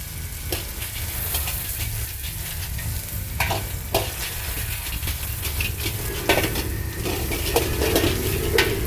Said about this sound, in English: After the garlic's fragrant, add the sausage. Fry briefly.